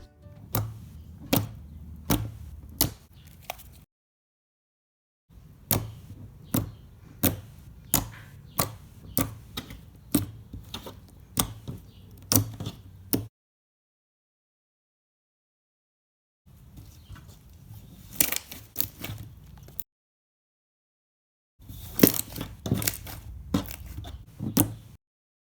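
Cereal milk slime being kneaded and squeezed by hand, close and quiet, with bursts of sticky clicks, pops and squelches separated by stretches of silence, no talking.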